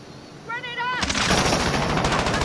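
Heavy gunfire in Call of Duty Warzone during a team deathmatch, loud and dense, with rapid bursts following a brief rising electronic warble.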